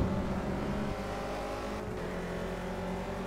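Renault Clio Cup race car engine in a racing video game, held at high revs with a steady, loud droning whine that dips slightly after the first second and carries on continuously.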